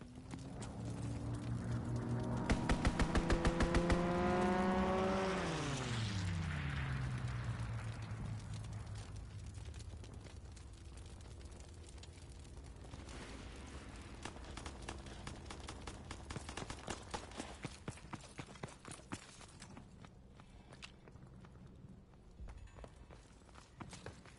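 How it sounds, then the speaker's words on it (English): A fighter aircraft makes a strafing run in a video game: a loud diving engine roar sweeps downward with a rapid burst of gunfire clatter, then fades into lower, scattered battle noise and sharp pops. "Fighter aircraft ready. Call for a strafing run."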